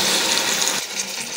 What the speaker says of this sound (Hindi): इस स्टेज में मैं इसमें 1 प्यारी पानी ऐड करूँगी।